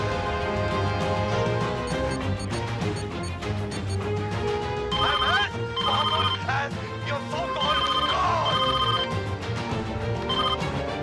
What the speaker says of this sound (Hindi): साहब, डॉक्टर अस्थाना का फोन है।